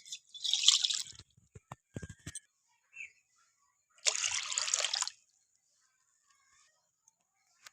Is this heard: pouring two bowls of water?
yes